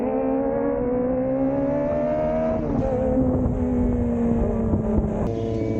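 A Kawasaki ZX25R motorcycle engine revs loud and close, holding a high steady tone, dipping briefly near the middle, then climbing again.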